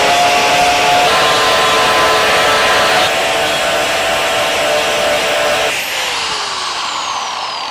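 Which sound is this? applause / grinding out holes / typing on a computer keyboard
grinding out holes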